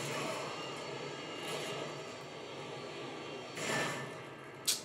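A Harrier jet in the Modern Warfare 2 video game, a steady broadband engine roar holding throughout that swells briefly near the end, with a sharp transient at the close.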